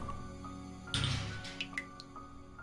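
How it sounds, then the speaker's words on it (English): Water drips in a video game, with a few sharp, close droplet plinks and a brief squishy splash among faint background game tones. "It's dripping."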